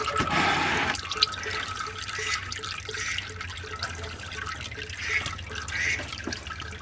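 Transmission fluid from a Dodge running into a bucket: a brief gush, then a steady, rhythmic patter of drips landing nearby, with faint shop noise around it.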